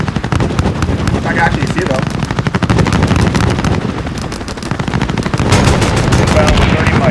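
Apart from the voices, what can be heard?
aircraft gun run strike in Call of Duty Modern Warfare video game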